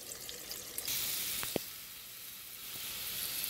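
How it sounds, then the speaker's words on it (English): A pound of mushrooms and onions sauté in a third of a cup of oil in a skillet, giving a steady soft hiss with a couple of sharp little pops, close but fairly quiet and with no voices. "I got my 1 pound of mushrooms and 1/3 of a cup of oil and some onions sauteing in that pan."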